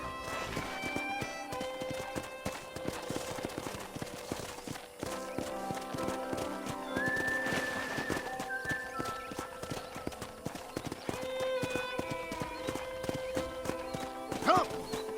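Steady hoofbeats clip-clop through a horse-riding sequence in Red Dead Redemption, with a horse whinnying once or twice over a continuous musical background.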